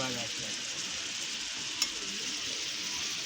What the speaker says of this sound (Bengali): আমি একটু লাড়া ফাড়া দেবো